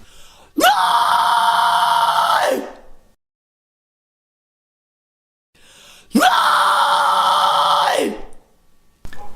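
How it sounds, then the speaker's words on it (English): A vocal fry scream supported from the diaphragm, two long harsh screamed bursts of about two seconds each, separated by silence, loud and close with a gritty, buzzing tone. "screamers who use this technique combine the vocal fry with proper diaphragm support, proper breath, and they get something like this"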